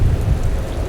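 Deep rumbling thunder rolls beneath a steady wash of heavy night rain, loud and close throughout the brief moment.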